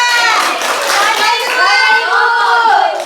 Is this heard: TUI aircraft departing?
no